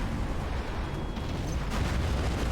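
Tomahawk cruise missile launching in Command & Conquer: Generals, a sustained roaring rumble with a rushing burst near the end, loud and continuous with no voices.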